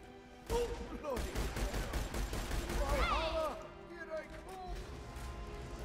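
Pistol gunfire in Tiny Tina's Assault on Dragon Keep, a rapid run of sharp shots mixed with game effects and chirping sounds, dense and loud for several seconds with a voice talking over it.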